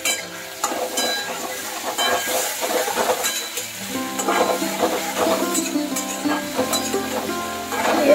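Rice and a pinch of turmeric frying in a pan for a Bengali banana flower dish, a loud continuous sizzle with repeated stirring scrapes and clinks of a spatula against the pan throughout.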